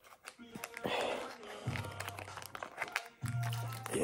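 A packet of Nongshim Japanese-style udon torn open by hand, with crinkling plastic and crunchy rustling in bursts, near and fairly loud, alongside speech.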